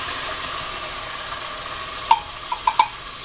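Beef with chile sizzling steadily in a pan as tomato puree is poured in, a constant frying hiss with a few sharp clinks and stirring knocks near the end.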